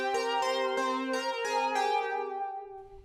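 A retro bell synth patch from Serum run through a slow chorus plays a quick series of shimmering bell-like notes with rich overtones that blur together and fade, no talking.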